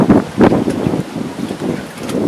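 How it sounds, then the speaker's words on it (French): Wind gusts buffet the microphone at a carp-fishing lake, producing irregular low rumbling bursts and rustling noise with no voices. "Là, on a le vent..."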